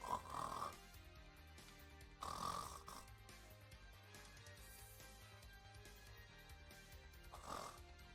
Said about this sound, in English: Do not try to snore while bending backwards.